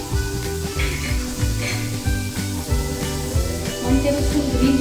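Cut green chillies dropped into two tablespoons of hot oil in a pan while making paneer chilli frankie, giving a loud, steady close sizzle with a faint voice now and then underneath.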